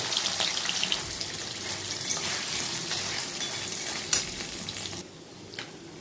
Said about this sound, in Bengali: এবার পনিরগুলোকে দিয়ে লাল করে ভাজা করে তুলে রাখবো।